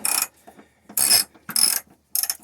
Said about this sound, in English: we're going to go ahead and use the ratchet here, just do the best we can to get this tightened up as much as possible